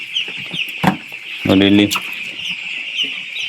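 Chickens cluck and squawk in bursts on a poultry farm, with one loud close squawk in the middle, while a person speaks briefly nearby.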